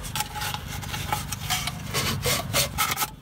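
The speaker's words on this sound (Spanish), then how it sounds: "Entonces ahora sí los lijamos." Wood pieces are sanded by hand for a bicycle washing station build, with close, rough rubbing strokes in a quick, uneven back-and-forth rhythm.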